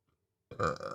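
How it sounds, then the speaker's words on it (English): A single loud, throaty burp right after drinking water, bursting out abruptly after half a second of near silence and rumbling on to the end. "I got some good water burps today, fam."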